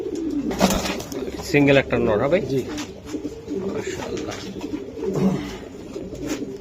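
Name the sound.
racing pigeon cooing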